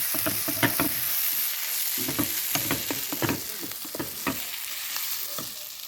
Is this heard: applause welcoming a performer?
no